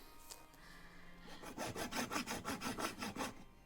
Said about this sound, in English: Using my miter box to cut the legs.